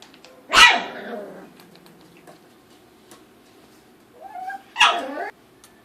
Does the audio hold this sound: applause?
no